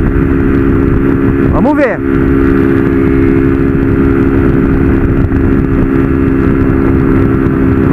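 A 160 motorcycle with a modified camshaft cruises on a highway, its engine droning loud and steady with heavy wind rumble, and a rider speaks briefly over it.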